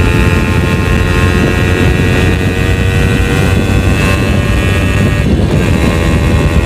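A two-stroke motorcycle engine running on Castrol Active 2T oil gives a loud, steady, buzzing drone with constant pitch throughout, close to the microphone and partly masked by wind rush.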